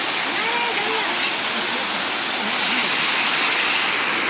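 A waterfall at Jubilee Park roars as a dense, steady rush of water close by, broad and unbroken, with a voice faintly audible beneath it.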